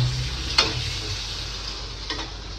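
An egg frying in a pan: a soft steady sizzle with a couple of brief clinks of a utensil against the pan, fairly quiet and close.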